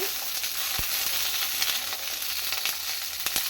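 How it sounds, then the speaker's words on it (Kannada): Chopped capsicum roasts in a hot pan until it changes colour, giving a steady close sizzle broken by a few quick spatula scrapes and taps. "ಇದು ಕೂಡ ಕಲರ್ ಚೇಂಜ್ ಆಗೋವರೆಗೂ ಹುರ್ಕೋಬೇಕು"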